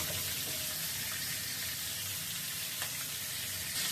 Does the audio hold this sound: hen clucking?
no